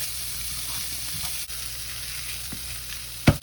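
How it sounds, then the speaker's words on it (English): Corn sautéing in a pan, a constant close hiss of frying with a sharp stirring clatter near the end, no voices. "we just need to let this saute up for about 7 to 10 minutes"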